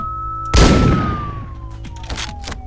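A sudden loud gunshot blast from Hotline Miami hits mid-clip and decays into a ringing tail, followed by a few softer thuds, all close over a steady background music bed.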